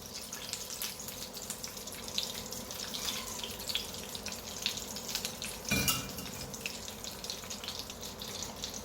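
Pieces of chicken pie frying in a pan of oil, a steady close sizzle and crackle with a brief louder burst partway through.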